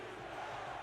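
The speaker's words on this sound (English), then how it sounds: "Mexico City crowd getting loud here as they try to will their team to a stop" A stadium crowd at a Mexico City football game roars as a steady, dense wall of cheering, loud and continuous throughout the short stretch.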